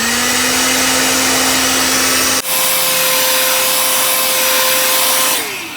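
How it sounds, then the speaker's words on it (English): A loud, steady electric heat gun blowing hot air whirs continuously, its pitch jumping higher midway and dropping as it winds down at the end; no talk. "So I'm gonna take my heat gun."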